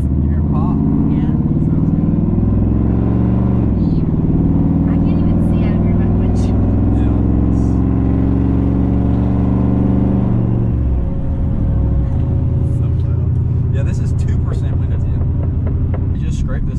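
A straight-piped truck engine is revved from the cab, rising to a loud roaring climb, dropping, then building again; deep rumbling exhaust is heard close up, with people talking over it.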